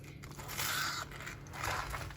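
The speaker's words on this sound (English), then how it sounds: "You hear that crunch?" Crispy fried bread pakora being broken open, giving two close, loud bursts of crackling crunch over about two seconds with no talking.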